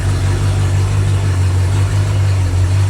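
A rebuilt small-block Ford V8, a 289 or 302, idles steadily up close while warming up, a loud, even low rumble with no revving.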